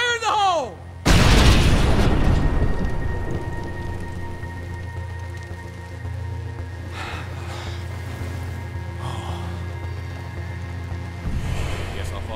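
A boom goes off in the video game State of Decay, a sudden loud blast about a second in that decays into a long rumbling tail, with a voice shouting before it and faint talk afterward.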